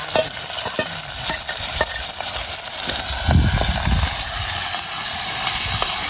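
Tomatoes sautéing in a pan for a Jaffna dried fish curry, a loud steady hissing sizzle with occasional stirring knocks and a brief low rumble midway.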